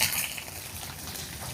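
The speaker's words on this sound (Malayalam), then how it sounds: "വെളിച്ചെണ്ണ ചൂടായി വന്നു. നമ്മളതിലേക്ക് 1 ടീസ്പൂൺ കടുകാണ് ഇട്ട് കൊടുക്കുന്നത്. കടുക് പൊട്ടി തുടങ്ങി." Mustard seeds splutter and pop in hot coconut oil in a pan, a dense, steady crackle close up with no voices.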